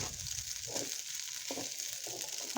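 Shrimp fried rice frying in a hot pan with a steady close sizzle, broken by several short bursts of stirring and tossing at roughly regular intervals, with no voices.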